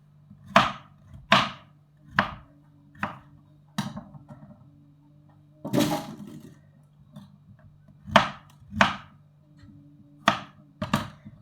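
A knife chops through pumpkin on a board: sharp, distinct strikes come in short bursts with pauses between, close and clear, with no voices.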